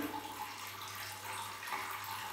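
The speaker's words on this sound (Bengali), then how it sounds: "এখানে শুধু ঝর্ণার শব্দ আপনারা শুনতে পাচ্ছেন" A waterfall at Eco Park in Cherrapunji, Meghalaya, gives a steady, faint, distant rush of falling water with no breaks, heard alone.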